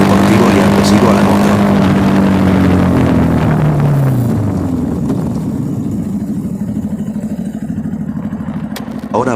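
A Bajaj Pulsar NS200 motorcycle fitted with a new aftermarket exhaust runs close by, its engine revving loud and falling in pitch, then settling into a steady, rough, pulsing rumble.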